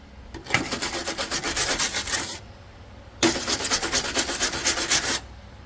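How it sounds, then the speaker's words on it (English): A wire brush scrubs rust and paint off metal in two bursts of rapid rasping back-and-forth strokes, each lasting about two seconds, with a short pause between them, close and fairly loud with no talking. "instructions said use a wire brush to remove rust and"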